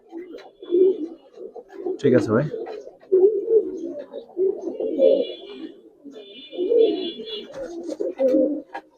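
Close, low coos and throaty rumbles from caged pigeons, including a red-marked Chinese breed, repeat over several seconds, mixed with someone speaking briefly and other background noise.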